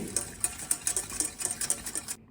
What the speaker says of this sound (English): You want to whisk it quite rapidly